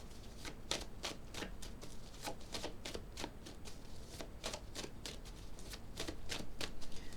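Tarot cards are shuffled by hand during a card reading, a quiet, close series of quick riffling and slapping bursts repeating steadily with no talk.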